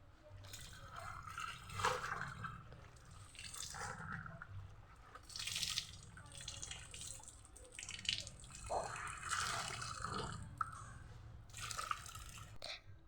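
Washed school uniforms are rinsed by hand in water, with irregular splashes, drips and sloshing bursts that come and go at close range and no talking.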